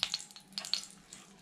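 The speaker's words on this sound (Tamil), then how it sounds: "எண்ணெய் நல்லா காஞ்ச உடனே அரைச்சி வச்சுருக்க பேஸ்ட் அதில் போடுங்க." Ground spice paste dropped into hot oil for Malaysian laksa, giving soft, broken sizzling and crackling bursts that rise and fade in short clusters, fairly close and moderately quiet, with no talking.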